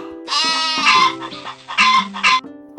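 A goat bleats several times in loud, close, wavering cries with brief pauses, heard on its own with no talk, in a Tamil village moral story where goats and chickens are kept.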